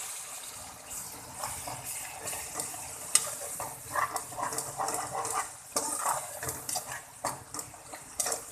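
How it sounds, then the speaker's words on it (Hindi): Spices for daal mash fry and stir in a pan over a low flame, with a steady soft sizzle and repeated scraping stirs of a spoon against the pan, close and without talking. "एक से 2 मिनट के लिए मैं इसे भून लूंगी मसाले को अच्छी तरह मसालों के साथ।"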